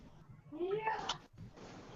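A person imitates a cat meowing with a drawn-out, rising-and-falling vocal meow, loud and close over a steady background hiss.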